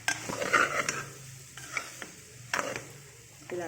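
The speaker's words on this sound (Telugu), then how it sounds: "ఇప్పుడు కొద్దిగా గరం మసాలా వేసుకొని రైస్ కలుపుకోవాలి" Paneer fried rice seasoned with garam masala is stirred in a pan, a utensil scraping and tapping the metal in uneven strokes over a soft sizzle, close and fairly quiet.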